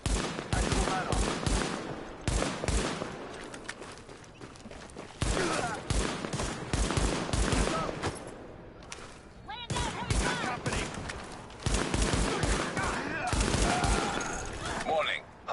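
Bursts of gunfire in a Tom Clancy shooter game crackle loudly in rapid, repeated volleys, close and overlapping, with short gaps between strings of shots and some background game noise.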